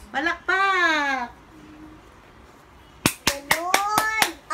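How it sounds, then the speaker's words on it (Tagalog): A church congregation at a homily claps hands in praise of God, with a sharp burst of several loud claps near the end after a voice speaks and a quiet pause. "Palakpak natin sa Diyos. Palakpak."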